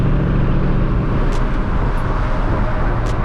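A catless Dodge Challenger cruising on a highway around 101, its exhaust a steady, loud, broadband drone heard from inside the car with constant road rush and no change in pace.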